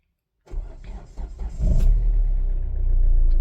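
A 2017 Hyundai i20 diesel engine turns over briefly, then starts and settles into a steady low rumbling idle, heard up close after a moment of silence.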